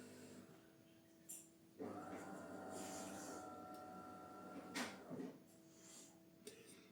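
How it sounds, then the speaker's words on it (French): A coffee machine finishing its brew gives off a steady mechanical hum and gurgle for about three seconds, with soft clicks and knocks around it and no speech. "Je laisse la machine à café terminer."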